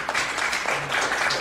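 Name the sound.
congregation applauding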